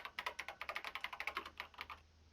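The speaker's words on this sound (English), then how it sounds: "she recovered just as fast and quickly began typing" Rapid keystrokes on a computer keyboard in the video game Danganronpa: a quick, uneven run of about twenty crisp clicks, close and fairly quiet, with nothing else heard.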